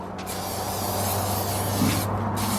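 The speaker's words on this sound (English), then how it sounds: "We're going to want to go ahead and spray it down a little bit." A steady, loud spray hiss as oil is sprayed onto steaks on a Weber kettle charcoal grill runs throughout with a low hum underneath, briefly swelling near the end.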